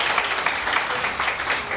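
A studio audience on a morning TV show claps steadily, a continuous wash of hands at moderate volume that keeps going without pause.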